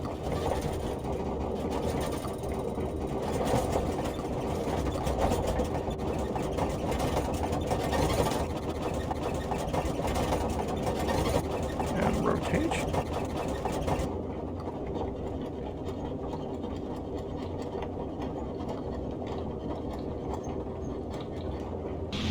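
Wing42 Boeing 247D twin radial engines at takeoff throttle in MSFS 2020, a loud steady rumbling drone that holds throughout, easing slightly in the later part.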